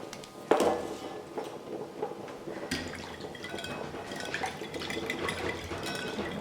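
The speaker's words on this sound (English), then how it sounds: "and then get some of the broth and add it." Chicken broth poured into a whisked egg and lemon mixture while tempering for Greek avgolemono soup, a steady close liquid pouring and splashing with a sharp clink near the start.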